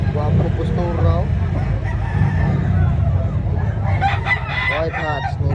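Roosters crow loudly and up close at a gamecock expo in a public market in Cebu City, with clucking and general crowd noise mixed in. One crow comes early and another rises near the end over the busy background.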